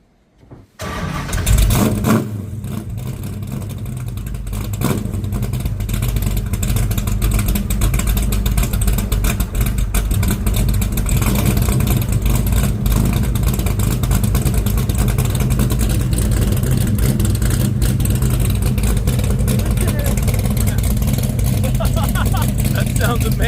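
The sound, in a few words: 1968 Dodge Charger engine running with aluminum exhaust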